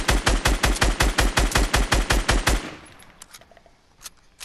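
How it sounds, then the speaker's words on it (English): Rapid automatic gunfire fired at trees in the Fortnite Battle Royale video game, with a steady loud burst of about fifteen quick shots that stops and fades into quiet with a few faint thuds. "I'm just gonna shoot the trees."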